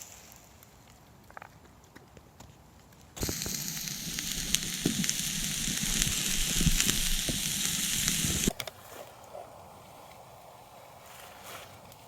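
Sausage and onion sizzle loudly over a campfire in the woods, a steady crackling hiss that begins suddenly, holds for about five seconds, then cuts off to quiet outdoor ambience.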